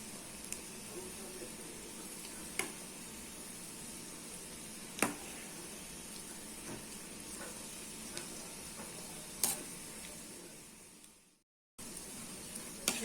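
Pakoda and cashew medhu bonda fry over a medium flame in bubbling peanut oil, giving a soft, steady sizzling hiss with a few scattered faint clicks and a brief dropout near the end.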